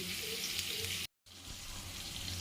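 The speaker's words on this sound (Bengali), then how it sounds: "ওই তেলেই এবারে কালো জিরে আর জিরে ফোড়ন দিয়ে দিচ্ছি।" Black cumin and cumin seeds sizzling in hot oil left from frying fish, a steady close hiss that cuts out briefly then resumes, with no talk.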